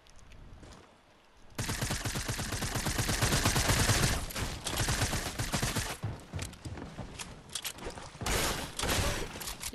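Rapid bursts of gunfire in the video game Fortnite, loud and near, starting after a brief quieter moment and continuing in dense volleys with short gaps.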